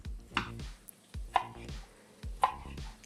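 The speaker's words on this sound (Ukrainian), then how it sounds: "А тим часом нарізаю кальмари на ось такі ось полоски." Three crisp knife chops on a cutting board while slicing squid into strips, evenly spaced about a second apart, close and clear with quiet between strokes.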